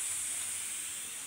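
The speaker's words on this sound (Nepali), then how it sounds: "अब यहाँ चाहिँ म निङ्ग्रोलाई आलु भुट्छु" Fiddlehead fern shoots and potatoes sizzling in a pan, a steady close hiss with no talk over it, on a cold winter day at home.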